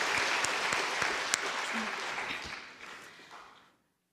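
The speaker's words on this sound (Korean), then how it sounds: "박수 한번 보내주시죠." A church congregation claps together at a Sunday afternoon service, a dense steady patter of many hands that gradually thins and fades out to silence.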